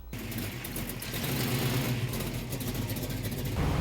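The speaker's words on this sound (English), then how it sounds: "It's got an exhaust leak." An American muscle car idles nearby, its rough, throaty rumble mixed with a crackling exhaust leak from a cracked header on one side, steady and continuous with no talk.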